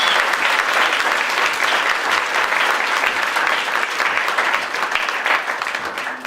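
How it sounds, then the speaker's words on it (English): An audience at a Class of 2002 gathering in Detroit gives the Elders Council a long round of applause, steady and full, with many hands clapping at once throughout. "I'd like to give them a round of applause."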